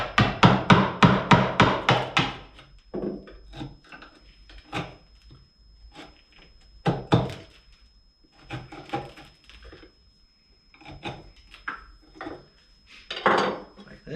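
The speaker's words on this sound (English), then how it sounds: "I use a smaller chisel just to press out all the wood chips" A small chisel works wood chips out of mortises in a sash window frame, with a quick run of sharp knocks followed by irregular scraping, tapping and clatter close by.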